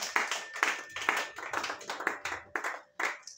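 Church congregation applauding during a worship service, a burst of sparse, irregular hand claps of moderate loudness, fairly close, with no talk over them.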